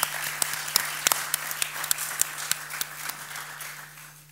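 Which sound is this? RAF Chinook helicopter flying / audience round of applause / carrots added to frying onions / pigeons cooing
audience round of applause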